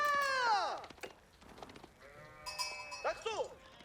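Sheep bleat in the medieval strategy game Age of Empires 4, with several wavering, nasal calls layered over one another at moderate volume while a player talks in the background.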